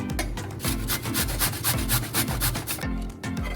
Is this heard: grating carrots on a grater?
yes